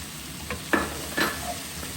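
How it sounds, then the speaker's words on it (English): Drained beans tipped into a pan of roasting pumpkin, a couple of quick splashy thuds followed by stirring scrapes and a soft sizzle, heard alone and close. "I'm now going to add in my beans."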